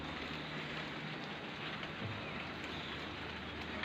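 Light drizzle falls on potted plants, including a small syngonium cutting, a steady soft patter of rain with no voices, even and continuous throughout.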